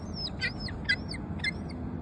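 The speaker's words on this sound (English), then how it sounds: "There's a crow fighting for the food." Crows and seagulls squawk over food outdoors, a few short harsh calls in quick bursts at moderate distance over a steady background rumble.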